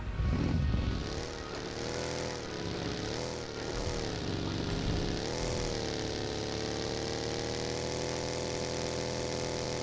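An airplane in the game PUBG Mobile drones steadily overhead, a continuous propeller engine hum with gentle wavering pitch, heard alone at moderate loudness.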